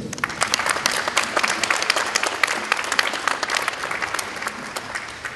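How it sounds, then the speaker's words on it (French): An audience at an agricultural forum round table applauds the panelists, with dense, crackling clapping that fills the room and stays strong and steady throughout before easing slightly at the end. "Je vous invite à applaudir nos panélistes"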